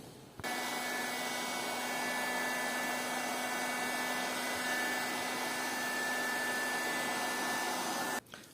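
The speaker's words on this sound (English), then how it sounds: "you can use a heat gun to speed up the process of drying" A heat gun drying paint on wooden puzzle pieces cut from old laminate flooring blows a steady, loud whooshing roar with a faint whine. It runs without a break for about eight seconds and then cuts off.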